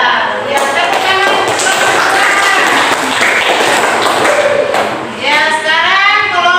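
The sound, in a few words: classroom applause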